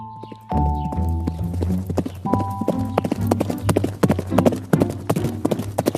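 A cartoon horse gallops in a race in a children's story, its hooves making a quick, steady clip-clop over background music that runs the whole time.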